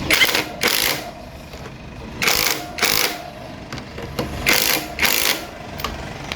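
An air-powered impact gun tightening brake parts on a Honda Wave 110i motorcycle fires in short bursts of rattling hammering, about six bursts in pairs, with quiet mechanical clicks between them.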